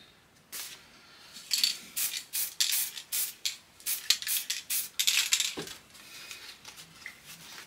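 Spray paint can fired in quick stop-start spurts to fleck black onto a prop cane, giving a rapid series of short hissing bursts with uneven gaps between them, close and fairly loud.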